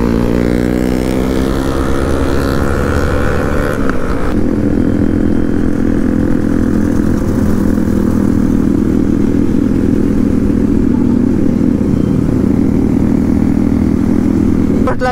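Motorcycles on an Independence Day group bike ride roar loudly and close, with revving at first and then a constant, heavy engine drone.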